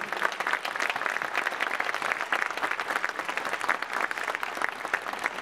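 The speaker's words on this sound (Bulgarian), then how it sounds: "Нека да изпратим Ралица с аплодисменти." Audience applause at a choir concert evening, dense continuous clapping from a sizable crowd, steady and even throughout without speech over it.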